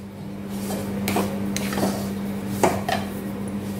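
Sugar, cardamom powder and nutmeg are stirred in a pan for rava laddu, with a spoon scraping and clinking against the metal a few times over a steady background hum, close and moderately loud.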